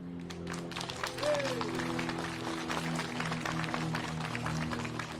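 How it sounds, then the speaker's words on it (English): Applause for Senator Ballinger at a historical marker dedication ceremony, a steady outdoor crowd clapping for several seconds over a low steady hum, with a brief voice rising faintly near the start. "I want to give Senator Ballinger one big round of applause again."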